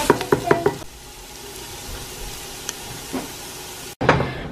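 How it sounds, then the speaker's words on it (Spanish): Carrot, celery, onion and garlic sizzling in a pot as the base for lentils: a few sharp clanks or chops at the start, then a steady soft frying hiss, cut off briefly before a louder burst of sizzling returns. "Aquí estoy guisando la zanahoria, apio, cebolla, ajo"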